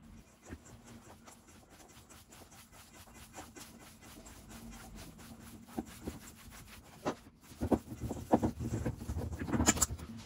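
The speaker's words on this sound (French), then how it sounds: "Et le meilleur moyen de bien mélanger, c'est avec la main. Alors, je mélange avec la main." Aubergine stuffing being mixed by hand in a bowl, soft squelching and rubbing that rises into louder wet bursts toward the end, close and without talk.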